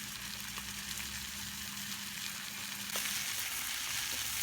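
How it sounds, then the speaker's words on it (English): Food fries in Pam cooking spray on a folding firebox outdoors, a steady close sizzle and crackle with light wind noise throughout. "you can use Pam as well if you're health conscious. Pam works just as good. As you can see, it's sizzling well."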